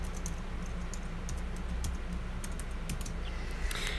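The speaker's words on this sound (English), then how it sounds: "Type in password" Rapid typing on a computer keyboard as a password is entered, dense irregular key clicks close up over a steady background hum, no voices.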